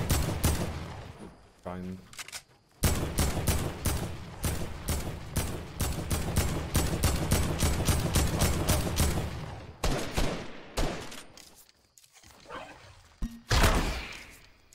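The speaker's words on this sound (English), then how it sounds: "Just shoot him once in the air." Fortnite video game gunfire: long rapid volleys of loud shots in quick succession, broken by short pauses and a few final bursts, with a player's voice talking briefly between them.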